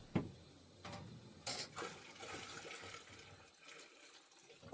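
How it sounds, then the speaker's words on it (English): Water is poured into a pot of beets as a steady, soft splashing and trickling with a few louder gushes, close by and without talk. "I'll pour some of this water in there, and that way they'll get topped up."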